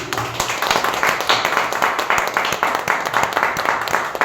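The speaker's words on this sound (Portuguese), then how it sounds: "aplausos a Ele" Church congregation applauding at the close of a service, dense rhythmic clapping sustained and loud throughout, close and filling the room.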